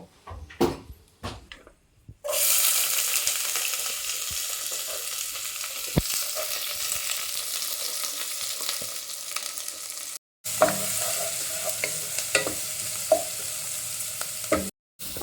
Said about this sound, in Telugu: అండ్ ఆనియన్స్ ముందు చాప్ చేసినవి ఉన్నాయి కదా అవి వేసి ఫ్రై చేయాలన్నమాట